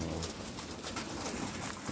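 Pigeons of various kept breeds coo faintly in a loft, low and distant under a steady broadband hiss, with no one talking.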